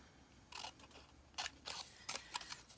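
Scissors snip through paper for a pinwheel in several short, crisp, close cuts, some in quick pairs, heard alone against a quiet room.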